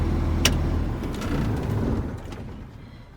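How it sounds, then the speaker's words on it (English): A truck engine is shut off during an in-cab and air brake inspection: a low diesel idle rumbles, then winds down and fades to quiet over a few seconds, with a brief click near the start. "Now we're going to go up and we're going to turn off the engine."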